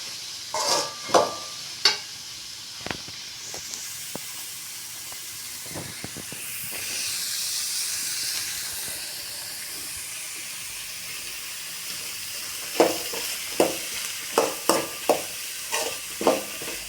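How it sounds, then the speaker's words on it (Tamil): Beans and other vegetables for fried rice sizzle and hiss in a hot pan while a spoon stirs them, with intermittent clinks and scrapes against the pan and no talking. "அதெல்லாம் போட்டு பீன்ஸ்லாம் போட்டு அப்படியே ஒரு வதக்கி விடுவோங்க"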